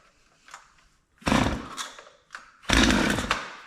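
A Stihl MS250 chainsaw on choke is pull-started: a faint tug, then two loud roaring bursts as the engine briefly pops and catches, each dying back, with a smaller sputter between them, heard up close.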